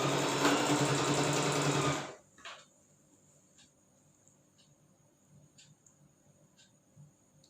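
A sewing machine runs steadily while stitching churidar bottom fabric, then stops abruptly after two seconds, leaving only faint clicks and quiet room noise.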